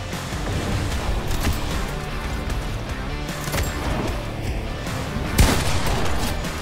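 Continuous gunfire in the video game Fortnite, including a burst assault rifle: dense rapid shots and crackling impacts, loud and sustained, with a sharp louder hit near the end and no talk over it.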